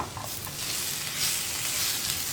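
Long slices of tomato frying in hot oil with turmeric and chilli powder for a pearl-spot fish masala, giving a continuous close hiss that swells slightly as the pan is stirred.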